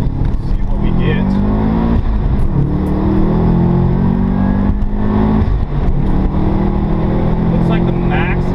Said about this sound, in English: I'm just gonna merge on the freeway real quick, do a quick pull here, see what we get.